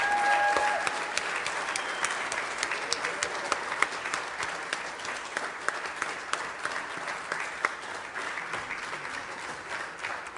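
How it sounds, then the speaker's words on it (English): Applause for newly admitted students at a school prelude ceremony, a sustained round of crowd clapping with sharp individual claps poking through, heard from a moderate distance. "So can I have a round of applause for our newly admitted students?"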